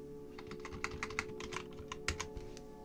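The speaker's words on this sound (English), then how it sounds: "type in the system name." Close, fairly quiet typing on a computer keyboard, a run of quick irregular key clicks over a few seconds with one louder press near the end, heard alone without talking.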